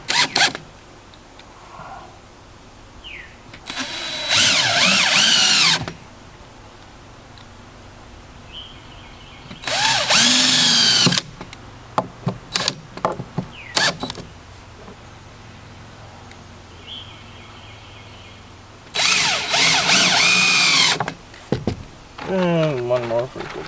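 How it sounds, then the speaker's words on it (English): A power drill drives screws into treehouse wood in three close bursts of about two seconds each. Each burst has a whirring motor that rises and falls, and quiet pauses between them carry small knocks and handling noises. "let's put a few more screws in."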